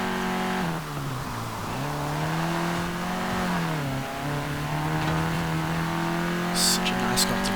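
A Peugeot hot hatch with a 99-horsepower 1.3-litre naturally aspirated inline-four races in Forza Horizon 4. The loud, steady engine drone dips in pitch at gear changes, climbs again, and ends with a brief clatter.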